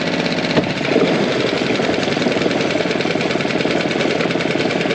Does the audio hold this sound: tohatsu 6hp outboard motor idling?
yes